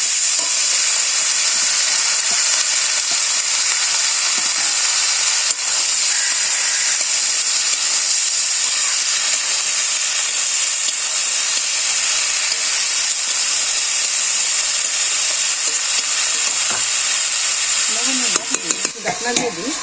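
Fish with beans and green chilies fry in a pan, a steady loud sizzle and hiss throughout, with a little clatter near the end.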